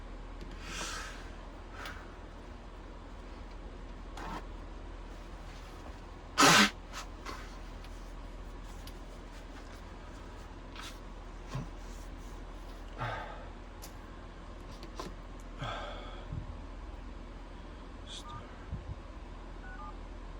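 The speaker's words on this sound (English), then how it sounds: "One second, let me blow my nose." Someone blows their nose with a few snuffly nasal bursts, one sharp loud honk in the middle, and quieter sniffs scattered around it.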